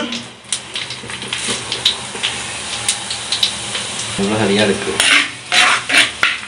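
Fenugreek and fennel seeds crackle and sizzle in hot oil in a Jaffna village kitchen, with a steady fry hiss under scattered metal clinks from a utensil against the pan.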